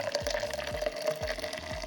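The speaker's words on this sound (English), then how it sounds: "Then I add the remaining water in the French press." Water pours into a French press of coffee grounds in a steady, close trickle and splash, with a soft, low repeating gurgle beneath it.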